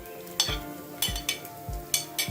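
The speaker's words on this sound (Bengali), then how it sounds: "এখন আমি দিয়ে দিব পেঁয়াজ কুচি" Chopped onion and green chilli go into a hot pan of frying okra, with a steady sizzle under several sharp stirring scrapes and clanks spaced about half a second apart, close by and with no talking.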